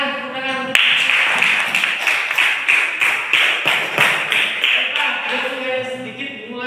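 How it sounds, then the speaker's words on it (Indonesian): Students clap together in a classroom during a Pancasila civics lesson, a quick run of sharp, rhythmic claps close by, with voices mixed in. "bagus, tepuk tangan, tepuk tangan"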